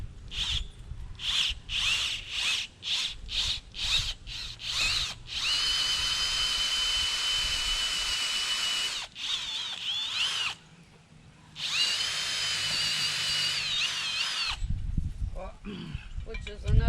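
Powered auger boring planting holes in hard clay soil for tomatoes, rapid pulsing bursts and then a sustained whine with short breaks, near and loud outdoors.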